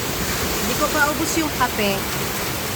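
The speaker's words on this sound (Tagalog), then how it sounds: "Lakas ng ulan, no?" Heavy rain pours in a steady, dense hiss close by while people talk over it.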